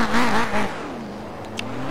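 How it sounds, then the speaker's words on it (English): Rallycross race cars on the starting grid at Croft rev their engines, a loud close rising and falling roar for about a second before it settles into a steady lower idle drone. "Revving them up for heat number 1 of 2014A."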